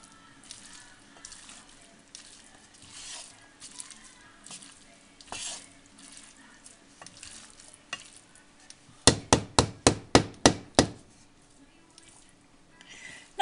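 Food sizzling as it fries in a pan and gets stirred, a low crackle running throughout, followed by a burst of about eight sharp, evenly spaced scrapes and knocks of a utensil against the pan.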